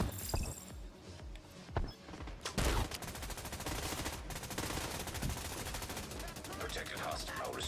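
Heavy weapon fire in The Division 2, with a few sharp shots followed by a sustained, dense burst of rapid automatic gunfire, loud and close.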